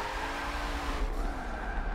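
Koenigsegg Agera drifting on a Dubai track in Forza 7, a steady droning engine with a sustained tire squeal, loud and continuous without any talk.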